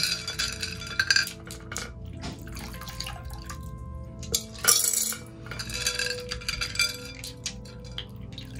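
Crystals are rinsed under running water and dropped into a container, with dripping water, small clinks against glass and a nearby tap running in short bursts, fairly close and with no talk.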